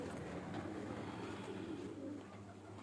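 Pigeons on a rooftop loft coo softly in low, repeated rolling calls, faint and continuous against a quiet outdoor background.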